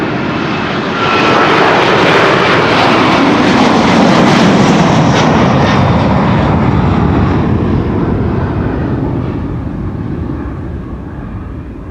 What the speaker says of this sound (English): Delta Airlines Flight 73 to Atlanta, Georgia. An A330-300